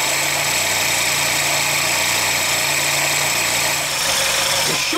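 A car engine idles rough and runs rich with the choke far over, nearly stalling. The steady mid-pitched drone carries a low throb and wavers slightly near the end, with no voices.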